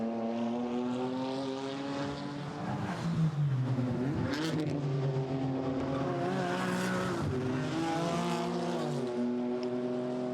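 GT4 race car at Imola accelerating downhill during European GT4 qualifying, a loud rising engine whine climbing through gears with shifts, steady and close throughout.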